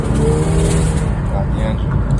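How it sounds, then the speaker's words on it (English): A 208,000-mile Jeep Patriot rattles while driving, its cabin filled with a steady road and engine drone and faint low vibrating tones beneath it, heard from inside the vehicle. "That rattle is the biggest thing. But that rattle is not the engine."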